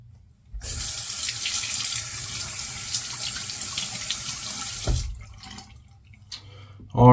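A tap runs steadily for a rinse, a bright rushing stream of water flowing for about four seconds before shutting off, followed by faint drips and handling sounds.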